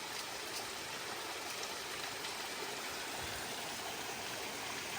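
A mountain stream near a stone house rushes steadily and fairly loud, a dense and even wash of flowing water with no break and no voices.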